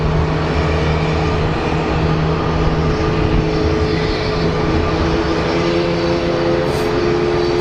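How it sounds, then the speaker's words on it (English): An American Airlines jet airliner coming in to land at Phoenix Sky Harbor, a loud steady engine roar with a broad rushing drone and faint tonal whine holding throughout. "And we have American Airlines 1870 coming in."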